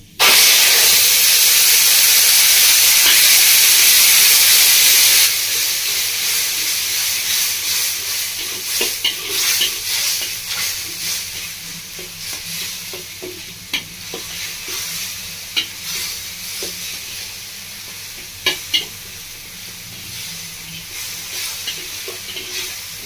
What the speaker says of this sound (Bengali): দেখুন বন্ধুরা ফোড়নের সাথে পেঁয়াজ আর রসুনটা খুব ভালো করে আমি ভেজে নিয়েছি